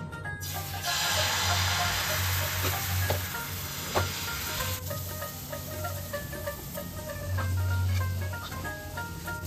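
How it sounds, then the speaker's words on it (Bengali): Pitha batter hits an oiled nonstick pan with a steady frying sizzle and hiss that runs the whole time, with a few light scrapes and clinks of a utensil partway through. "ননস্টিকে একটু তেল দিয়ে গোলাটা ছেড়ে দিচ্ছি।"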